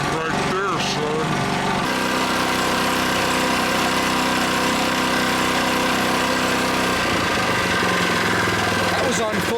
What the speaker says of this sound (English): That's a smooth running engine right there, son.